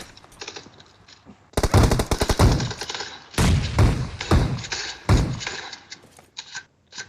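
Gunfire in the PUBG Mobile game comes as loud, close automatic bursts of rapid shots, in several volleys separated by short pauses.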